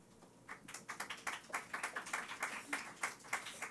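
A church congregation claps together during a worship service, a quick run of fairly faint, even claps lasting a few seconds with faint voices underneath.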